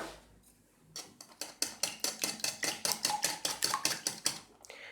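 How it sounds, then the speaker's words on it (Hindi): Eggs with salt being whisked in a deep bowl, a fast regular run of about sixteen sharp clinks of metal against the bowl after a quiet start, close and alone. "अंडों के अंदर नमक ऐड करके इसको फेंटते हैं अच्छी तरह"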